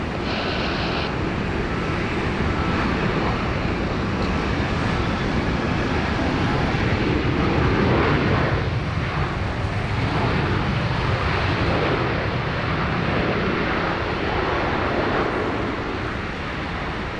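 Qantas airliner at Sydney Airport near runway 16 right: a steady, loud jet engine roar that holds broadband and constant throughout, heard from a distance with no talk over it.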